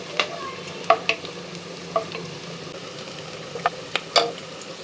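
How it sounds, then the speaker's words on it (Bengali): Onions frying in a pan for birista, a soft sizzle under repeated scraping stirs and clinks of a spatula against the pan, coming in irregular bursts. "পেঁয়াজটা ভালো করে ভাজা হয়ে গেছে।"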